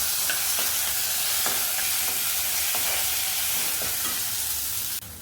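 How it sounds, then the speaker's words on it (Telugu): Green chillies and curry leaves dropped into a hot mustard-seed and dal tempering hiss in a dense, continuous sizzle with faint crackles, close up, until it cuts off near the end. "పోపు కొంచెం చిటపట్లాడాక అప్పుడు పచ్చిమిర్చి కరివేపాకు వేయాలి పోపులో"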